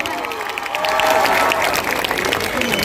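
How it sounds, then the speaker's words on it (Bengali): Audience applause and cheering at a live concert in a park, a crowd clapping steadily at a distance, swelling slightly after the first second, with voices faintly mixed in. "আরেকটু জোরে হাততালি প্লিজ।"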